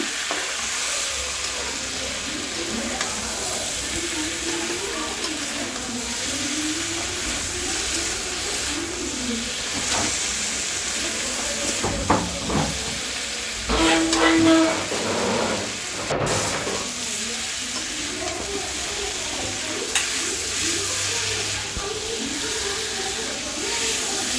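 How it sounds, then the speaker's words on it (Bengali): Vegetables sautéed with roasted cumin and coriander powder for a boal fish curry sizzle in a pan, a constant close frying hiss broken by occasional stirring scrapes and a brief clatter midway. "এই ভাজা মশলাটা দিয়ে আরও ভালো করে একটু কষিয়ে নেব"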